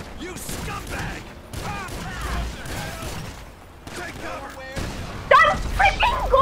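Shotgun blasts ring out in an online session of GTA Online, with several sharp bursts scattered among excited talking; the loudest crack lands near the end.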